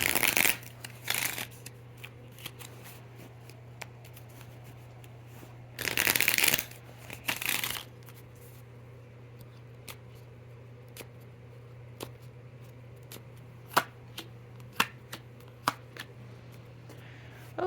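Tarot cards shuffled close by in several quick riffling bursts, followed by a quiet stretch with scattered card taps and clicks over a low steady hum.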